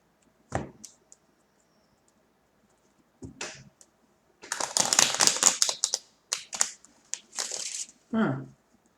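Tarot cards are pulled from a deck during a reading, giving short papery shuffles and snaps in separate bursts, with a longer rustling flurry in the middle, close and fairly quiet against an otherwise silent room.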